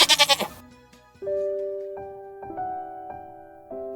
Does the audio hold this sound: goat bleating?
yes